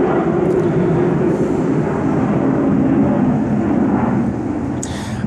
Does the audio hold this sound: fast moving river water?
no